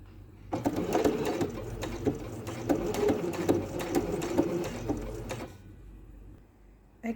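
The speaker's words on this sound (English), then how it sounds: "We're now going to sew down each side of the pocket here, just to hold that flap down, 3/8 of an inch" A sewing machine stitches down the flap of a wool blazer pocket with a 3/8 inch seam, running loud and steady for about five seconds before stopping.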